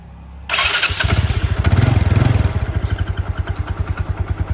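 A Yamaha Mio Sporty scooter engine cranks and catches, then settles into a steady, loud, close putter of regular pulsing exhaust beats.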